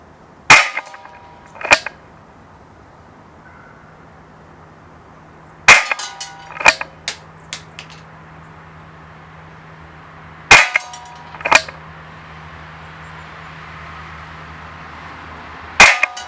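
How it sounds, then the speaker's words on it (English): An ASG Dan Wesson 4-inch black CO2 BB revolver firing single action at a target from 20 feet, sharp loud cracks with metallic pings, fired singly and in pairs with long pauses between. "We're going to shoot 6 rounds on this target from 20 feet out in single action."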